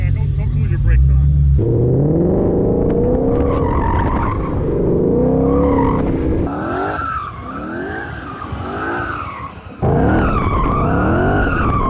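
A 2020 Ford Mustang Shelby GT500's engine roars up and down through the gears at close range, tires squealing as it pushes hard around the track.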